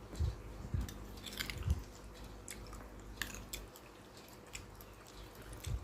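Someone chews corn close up, with a few soft, moist bites and crunches at an uneven rhythm in an otherwise quiet setting.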